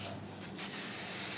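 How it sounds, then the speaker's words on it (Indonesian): Naturein Airbuds spray hisses from an aerosol can in a continuous, steady burst that keeps going to the end. "You see, I can just spray and I'm not afraid."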